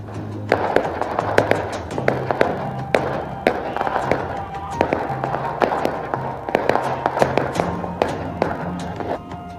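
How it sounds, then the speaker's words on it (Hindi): Fireworks bang and crackle again and again during festival of lights celebrations in Uttar Pradesh, sharp bursts scattered irregularly across the whole stretch over a steady background rumble, with some crowd noise mixed in. "लोगों ने रोशनी के त्योहार में जमकर आतिशबाजी की।"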